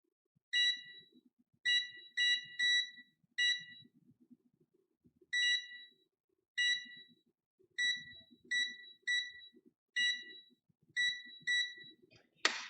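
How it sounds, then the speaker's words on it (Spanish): Continuity test beeps from Fluke and Sunshine multimeters, a series of clear electronic tones in short single and paired bursts with gaps between, quiet and close with faint background noise. "Ahora vamos a poner los dos a emitir el mismo alerta"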